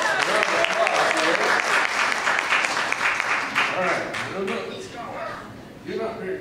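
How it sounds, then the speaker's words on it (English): An audience at a church covenant and communion service applauds for a speaker, a dense run of claps that thins out over several seconds as voices talk over and after it. "Let's give him a round of applause."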